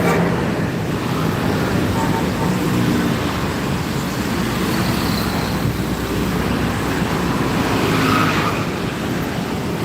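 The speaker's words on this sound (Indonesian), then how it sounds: "Ini ada bis ngebut." A speeding bus on a road, heard as a continuous broadband traffic roar with wind-like rushing that swells and fades, fairly loud and steady throughout.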